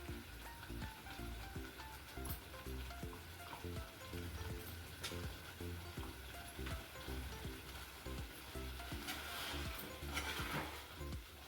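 Fish pieces frying in Malvani masala in a pan, a soft, steady sizzle with faint crackles and rhythmic stirring throughout, fairly quiet and unbroken.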